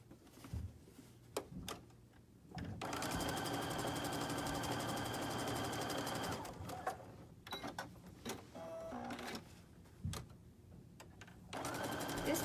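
A sewing machine stitches scrappy quilt pieces cut from a jelly roll, running in bursts of steady mechanical whirring and clatter with short pauses and clicks between runs.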